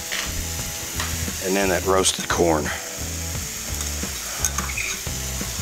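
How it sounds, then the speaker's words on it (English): Lima beans and roasted corn sizzle in melted butter in a pan, a steady close frying hiss with rhythmic clinks of a utensil stirring, while someone talks briefly over it. "Let that sizzle for just a second there"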